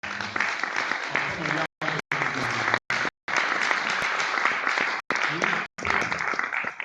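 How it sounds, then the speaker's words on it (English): Applause from an audience at a community town hall fills the room, broken by a few abrupt silent gaps, with a voice mixed in beneath the clapping. "This brother deserves a round of applause"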